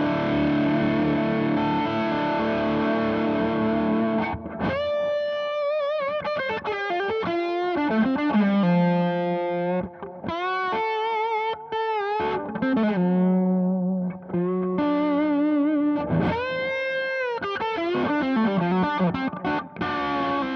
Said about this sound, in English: So this is kind of like big rock lead delay.